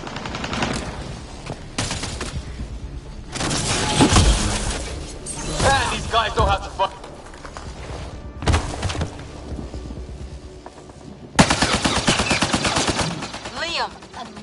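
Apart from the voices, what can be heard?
gunfire in Mass Effect Andromeda video game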